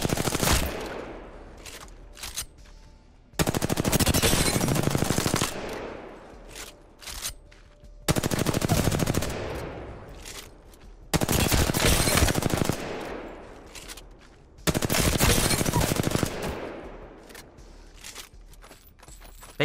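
Sustained automatic gunfire strikes targets on an Apex Legends firing range in four long bursts of rapid shots, each followed by quieter gaps with faint clinks and shuffling steps, loud and close with no talking.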